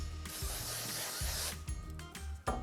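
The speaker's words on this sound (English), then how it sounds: "Just a light coating of cooking spray is all you need." Cooking spray hisses in a steady broadband burst into a baking pan for brownies, lasting about a second and a half, followed by light clatter and handling of the pan.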